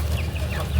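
Pet domestic hens cluck in soft, close chatter, let out of a small cage onto a balcony.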